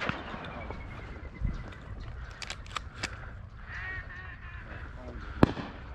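Ducks and geese call during a public-land duck hunt in a Southern California marsh, with scattered honks over a low background rumble, a few faint voices, and one sharp, loud shot-like crack near the end.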